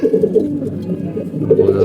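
Pigeons coo close by in repeated low, throaty rolling calls, one burst after another with a short lull between.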